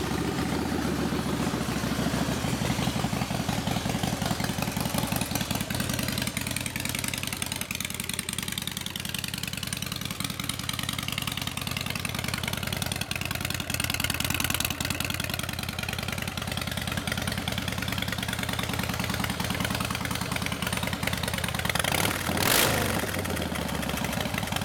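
A 2004 Harley-Davidson Fat Boy motorcycle engine rumbles steadily at idle, loud and close throughout, with a brief rise near the end.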